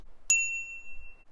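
A folding bike's handlebar bell gives one bright ding that rings on and fades slowly over about a second, heard alone in a quiet room.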